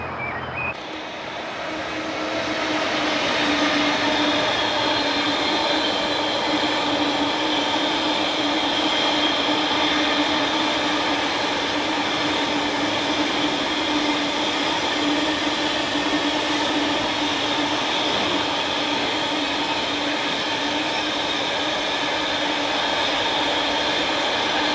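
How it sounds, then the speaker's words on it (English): A long train rolls past on a busy railway line close by, a steady, loud, sustained rumble and clatter holding for the whole stretch without a break. "Long old train there."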